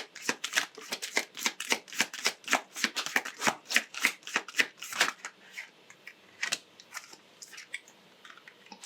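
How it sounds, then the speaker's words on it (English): A deck of oracle cards is shuffled up close in quick, crisp riffling bursts that slow toward the end, with no talking. "let's pull a couple of oracle cards."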